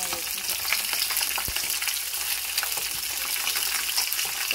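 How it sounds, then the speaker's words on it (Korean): Black sea bream pan-frying in hot oil, a steady dense crackle and sizzle running the whole time with scattered sharp pops, close and fairly loud, no talking. "뜨거운 기름에 익는 거잖아"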